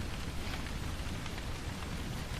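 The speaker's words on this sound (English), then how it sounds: "Walking in the rain without an umbrella?" Rain falls steadily in a dense, constant hiss of drops on surfaces, even and unbroken throughout with no voices.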